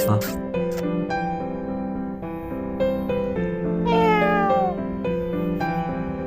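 A cat that has just been woken from sleep meows repeatedly at close range, a series of drawn-out, wavering calls that rise and fall, with a person talking softly in the background.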